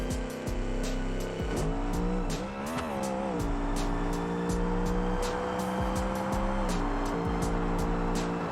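Natural, non-nitrous launch of a drag car down the strip: a loud, sustained engine roar with rising pitch sweeps and tire squeal, close and continuous with no talk.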